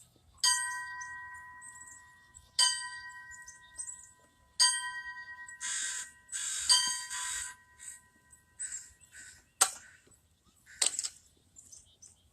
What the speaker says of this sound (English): please strike 4 bells